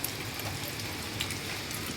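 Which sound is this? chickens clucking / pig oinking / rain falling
rain falling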